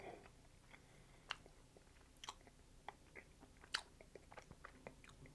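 Someone chews a 20-year-old piece of Dubble Bubble gum that crumbles to powder, giving soft, close, irregular crunching and clicking sounds that are faint and quiet.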